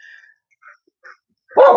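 A dog gives one loud, sharp bark after a few seconds of near silence broken only by faint, scattered sounds.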